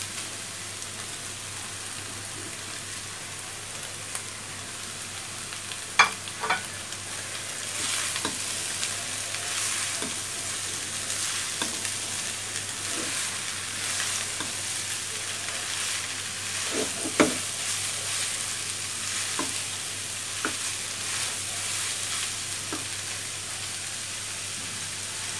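Capsicum, carrot and chili sizzle steadily in a hot pan, a soft continuous hiss broken by occasional clicks and scrapes of stirring.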